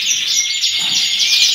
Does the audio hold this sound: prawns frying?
no